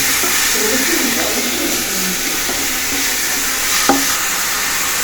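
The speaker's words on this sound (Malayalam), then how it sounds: "ചെറിയുള്ളി ചതച്ചത് വെളുത്തുള്ളി അപ്പൊ അതൊക്കെ ഇട്ടിട്ട് അമ്മച്ചി പതുക്കെ ഒന്ന് വഴറ്റാണ്" Crushed shallots, garlic and curry leaves sautéing slowly in a pan for a Kerala pork and koorkka dish, a steady soft sizzle and hiss with light stirring and one sharp clink near the end.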